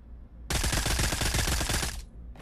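AS Val rifle firing in the VR shooter game Pavlov, a loud sustained burst of rapid suppressed automatic fire lasting about a second and a half, then a brief trailing shot.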